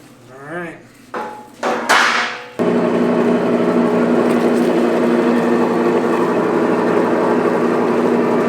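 A meat grinder running for homemade sausage at a third-generation family sausage business, starting after a few loud knocks and bangs, then a dense, steady mechanical grinding drone that continues loud and close.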